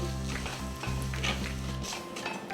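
Cumin seeds frying in hot oil for jeera rice, heard as a soft sizzle over a low steady hum that drops away near the end, with faint stirring scrapes and no voices.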